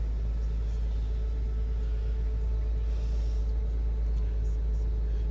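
A 2000 Porsche Boxster's engine runs smoothly at idle, a steady low rumble heard from nearby with an even, unchanging level throughout.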